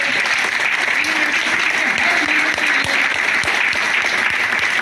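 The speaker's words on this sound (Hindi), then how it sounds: "एक बार जोरदार तालियां जीसी उपाध्याय सर के लिए" Loud, dense audience applause for GC Upadhyay at a network marketing gathering, continuous and even from start to finish with no break.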